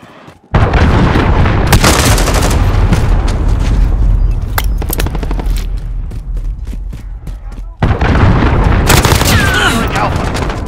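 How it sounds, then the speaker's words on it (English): Cruise missile strike in a Call of Duty: Modern Warfare multiplayer Domination match: loud, continuous booming explosions and gunfire fill nearly the whole stretch, with a brief drop before a fresh blast and renewed roar near the end. "Allied cruise missile launched."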